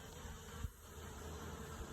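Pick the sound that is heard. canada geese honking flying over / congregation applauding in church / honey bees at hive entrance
honey bees at hive entrance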